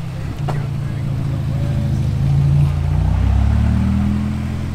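A yellow Ferrari 599 HGTE on a Monaco street, its engine a low, steady rumble that swells as the car nears and passes, fairly loud against street noise.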